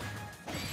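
A single sharp smash impact from an up smash in Super Smash Bros, a brief crashing hit that is loud and close with no talk.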